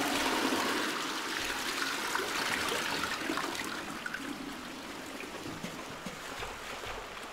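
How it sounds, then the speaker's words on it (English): Toilet flushing in the horror game The Classrooms, a steady rushing and trickling of water that starts strong and gradually tapers off over several seconds, heard alone without voices. "Can I flush this?"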